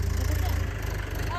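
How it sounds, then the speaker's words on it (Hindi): A tractor engine rumbles close by with a steady, loud, low chugging throb that fills the whole moment, and people talk over it outdoors. "हां ट्रैक्टर एले"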